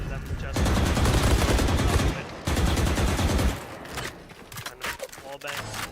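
Rapid gunfire from a competitive 2v2 shooter match, heavy bursts of shots fired through a wall, loud and sustained in two long runs before breaking into scattered sharper shots.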